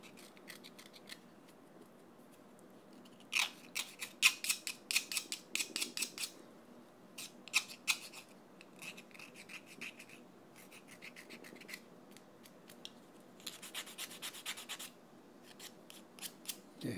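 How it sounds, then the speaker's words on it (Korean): Fingernails are filed into shape for classical guitar playing, heard as quiet, close bursts of quick rasping strokes in irregular clusters separated by brief pauses, with no talking. "위쪽에도 약간은 다듬어, 손톱 등 쪽에 끝에 부분도 약간은 갈아줘야 돼요."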